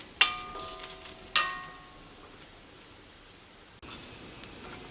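Ginger, garlic and onion frying with peanuts and coconut for a tomato curry give a soft, steady sizzle, with two sharp metallic clinks of stirring near the start.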